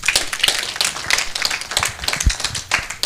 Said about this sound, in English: Let's clap for her, please.